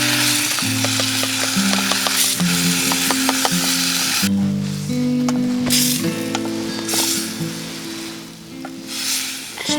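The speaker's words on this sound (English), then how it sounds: "Stir in the mushroom." Mushrooms sizzle and fry in a pan over an outdoor bush camp fire, a loud continuous hiss with scraping stirring strokes close by, over a steady musical backing and without speech.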